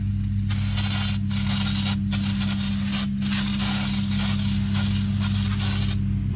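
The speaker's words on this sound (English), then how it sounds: "So we got to take some brake cleaner. We're going to go ahead and shoot this down as well." Brake cleaner is sprayed onto a brake rotor during front and rear brake work on a 2006-2010 VW Jetta MK5, hissing in several bursts over a loud steady hum nearby.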